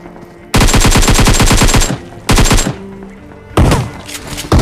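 Automatic rifle fire from a battle royale shooter, a long rapid burst followed by two shorter bursts, loud and close with a sharp mechanical clatter and no talking.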